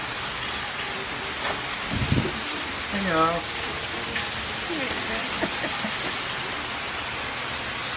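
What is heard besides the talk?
heavy rain in Florida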